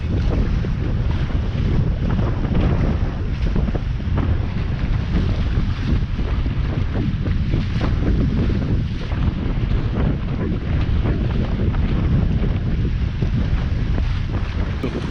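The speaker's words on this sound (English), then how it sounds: "Waves are getting a little rowdy." Rough, choppy waves and strong wind buffet a small boat on open water during a waterfowl hunt, a constant loud roar of wind noise and water splashing with no break.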